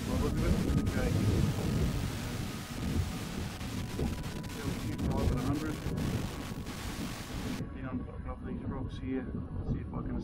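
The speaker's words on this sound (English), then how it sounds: "The wind has all of a sudden just picked up to a big gale" Strong gale-force wind buffets the microphone in loud rumbling gusts, then cuts sharply to quieter outdoor sound near the end.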